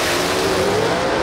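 A gasser drag race car launches off the starting line at Shadyside Dragway, its engine a loud, continuous roar rising in pitch during the brief burst, with no commentary over it.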